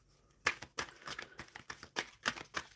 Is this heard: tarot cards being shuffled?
yes